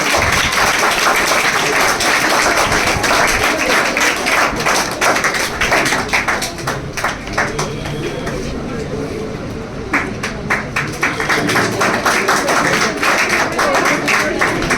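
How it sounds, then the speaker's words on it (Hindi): A crowd claps continuously during an honouring event for selected students, a sustained rattling applause of many hands with some talk underneath, swelling again toward the end. "ताली बजाते भाई।"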